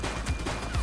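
A quick burst of several gunshots in The Precinct, a police video game set in a shootout with a suspect; sharp, loud cracks come in rapid succession.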